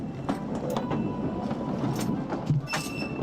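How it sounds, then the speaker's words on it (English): A community trolley rolls over rails at moderate distance, a steady rumbling wheel noise with scattered clicks and brief metallic squeals and clacks as it moves along the track. "There's something magical about any kind of train. The way it moves, the sound it makes as it goes over the rails."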